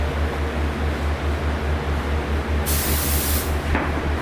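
A spray gun machine lays down a finish coat with a loud, continuous hiss over a pulsing low motor hum, close by and steady, the spray surging brighter near the end.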